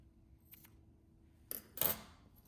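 Scissors snip yarn short while a small plush octopus toy is being finished, a faint tick followed by two quick, close, crisp snips in an otherwise quiet room.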